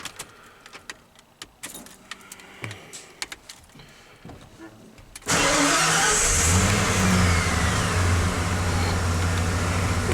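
A 1995 Ford F150 pickup truck cranks and fires, after a few seconds of faint clicks and rattles, then settles into a loud, steady idle that runs continuously.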